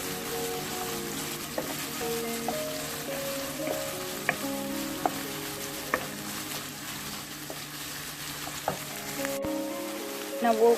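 Salted onions sizzle and fry in a pan for a curry, a steady close hiss broken by a few light stirring clicks, with faint voices and a low hum in the background.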